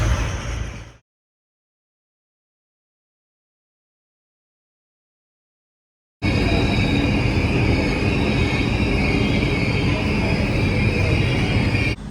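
A passenger train in İzmir, Turkey, rides along its rails: a brief rumble, then several seconds of silence, then a loud, continuous rolling rumble with rattling, heard from close by with no talking.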